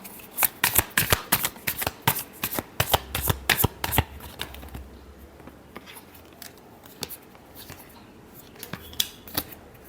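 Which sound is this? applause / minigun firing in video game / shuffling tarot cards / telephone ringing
shuffling tarot cards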